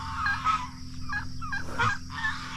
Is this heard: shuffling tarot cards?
no